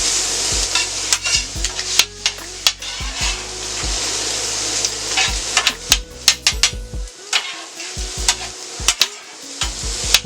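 Jambalaya ingredients sizzle on a Steelmadeusa flat-top griddle while a metal spatula scrapes and taps against the steel in a repeated, uneven rhythm, close and fairly loud over a continuous frying hiss.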